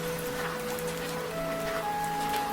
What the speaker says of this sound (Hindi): ये क्या मुसीबत है, अब बारिश भी।